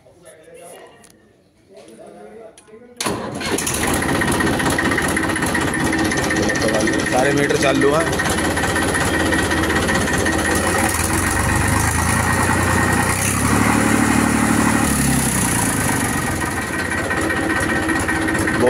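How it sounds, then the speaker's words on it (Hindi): A 2011 Massey Ferguson 241 tractor engine, cold on a morning, cranks and catches after a few quiet seconds, then settles into a loud, steady diesel idle with constant rumble and vibration while someone talks nearby. "ट्रैक्टर की आवाज़ देख लो।"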